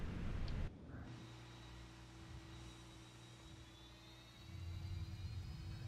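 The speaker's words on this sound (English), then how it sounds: "Let's go ahead and start the APU. I'll go outside. You can hear it." An auxiliary power unit spools up on a Fenix A321 airliner in Microsoft Flight Simulator, a steady whine and low hum rising after a sharp cut, with a rushing roar swelling near the end.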